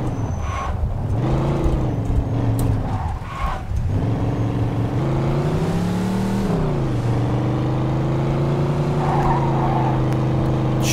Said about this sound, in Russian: Как заносит эту машину.